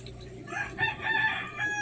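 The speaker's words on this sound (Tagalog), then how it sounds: "Andun, may manok pa." A rooster crows once, a drawn-out call heard from a moderate distance over low background noise.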